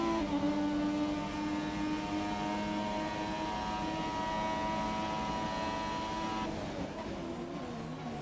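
A classic race car in the F1 2017 racing game drones with a steady, loud, buzzing engine tone, its pitch holding and then shifting near the end. No one talks over it.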